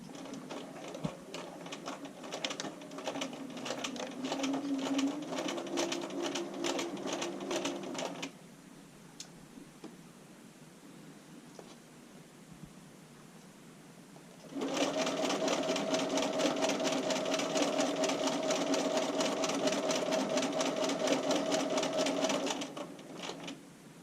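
A sewing machine stitches a bra seam back and forth in two long runs of rapid, even clatter, with a quieter pause between them and no speech.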